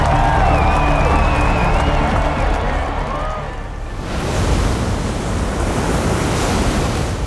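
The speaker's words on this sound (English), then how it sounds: "It's really nice to start a race car movie with the sound of waves." Ocean waves breaking on a shore, a steady loud wash of surf with wind noise throughout, with a faint high tonal layer in the first half before the roar thickens.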